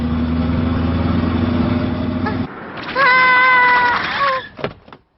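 Cartoon cat meowing in a Hindi-dubbed Doraemon episode: a loud, high, wavering series of meows follows a droning hum, then tails off into a short fading cry.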